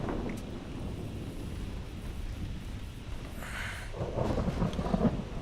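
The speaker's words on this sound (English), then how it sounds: "Rough sea waves, stormy weather." Stormy weather at sea in the naval strategy game Ultimate Admiral Dreadnoughts: a steady low roar of wind and waves with thunder-like rumbling, growing heavier and more churning toward the end.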